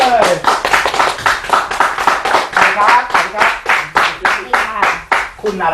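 A television studio audience claps in a loud, rhythmic beat to welcome the first guest, each clap sharp and regular while voices sound over and between them.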